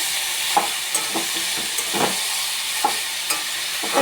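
Ghonto, a vegetable curry seasoned with turmeric, is stirred in a pan over a gas flame: a steady hissing sizzle broken by several sharp spoon scrapes at irregular intervals.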